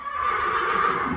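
A horse whinnies inside a barn, a single sustained, fairly loud neigh lasting about a second with a steady, high tone.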